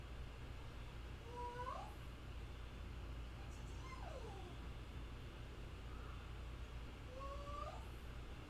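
A house cat howls in a hallway, giving three drawn-out, wavering yowls spaced a few seconds apart, moderately distant and faint over a steady low background hum.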